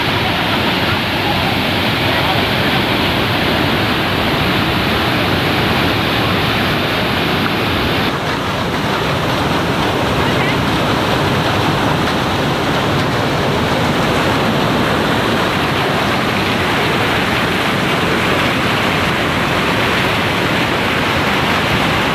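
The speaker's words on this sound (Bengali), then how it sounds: "দেখুন তুর্গা ফলসের বেগ প্রচণ্ড প্রচণ্ড পড়ছে" Turga Falls waterfall pours down with a dense, steady roar of falling water, loud and continuous throughout with a faint wind-like hiss.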